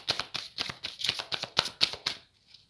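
Tarot cards are shuffled by hand in a quick series of crisp riffling bursts, close and clear, ending in a soft settling slide.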